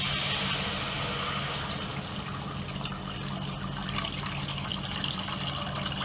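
Water pours steadily into a cooking pot for making rava, a continuous broadband rush that stays even and close throughout with no talking.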